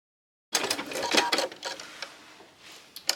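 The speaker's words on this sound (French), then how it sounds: "je fais une première piqûre sur le bord extérieur du zip" A sewing machine runs a first holding stitch along the outer edge of a jeans zipper, about 2 mm from the edge, in one close, steady burst of needle clatter that eases near the end.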